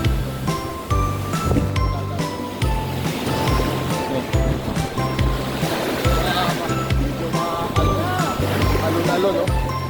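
Sea waves wash steadily around a fishing boat out on the water during net fishing, with a constant rushing surf texture, rhythmic low thumps and occasional tinkling, close and fairly loud throughout.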